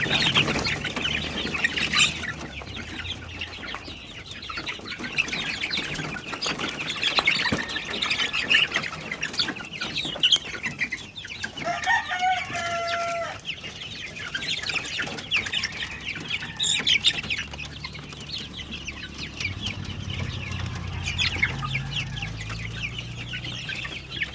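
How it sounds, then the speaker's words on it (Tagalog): Hungry chickens cluck, squawk and flutter nearby while eating feed on a farm, a busy, continuous chorus of overlapping calls with occasional wing flaps. "So ito gutom na gutom mga ah, chickens natin."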